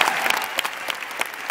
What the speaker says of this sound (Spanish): Un aplauso para Carlos Fajardo, nuestro iluminador.